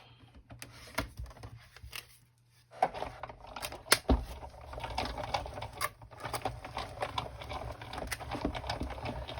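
A Sizzix Big Shot die-cutting machine cranking through mat board, giving close, irregular clicking and rattling with a brief pause near the start before the cranking resumes steadily.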